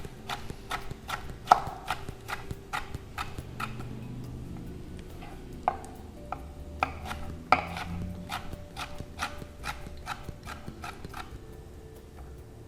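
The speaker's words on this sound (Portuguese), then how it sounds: "Fazer aqui alguns cubos do pimentão vermelho." Knife chopping red bell pepper into cubes on a board, a steady series of sharp close taps at an even, brisk rhythm, with no talking over it.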